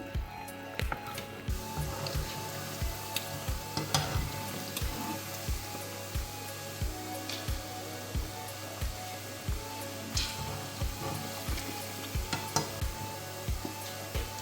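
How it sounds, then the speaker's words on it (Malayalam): Salmon pieces frying in oil for a pickle, a steady close crackling sizzle broken by regular soft knocks and clinks of a ladle lifting and turning the fish, with no talking. "ഇത് നമ്മൾ മീൻ വറുത്ത് കോരിക്കൊണ്ടിരിക്കുകയാണ്"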